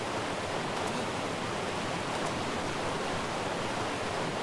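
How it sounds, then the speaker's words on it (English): A waterfall in ARK: Survival Evolved roars as a dense, continuous wash of rushing water, loud and unbroken throughout with no voices. "Let's have a look at this waterfall."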